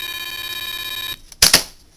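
A PICAXE electronic beeper circuit sounds a sustained, bright, tonal electronic beep that cuts off sharply, followed by a couple of brief clicks or knocks nearby.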